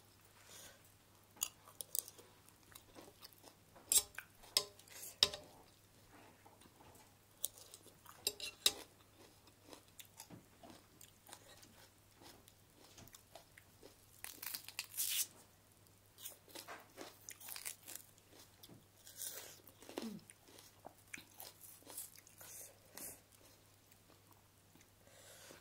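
Someone eats a spicy Thai rice noodle salad with canned fish, with close, wet chewing and crunching punctuated by clinks of cutlery against a dish in quiet surroundings.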